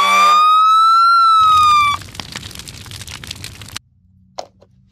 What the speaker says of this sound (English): We have a red fire truck.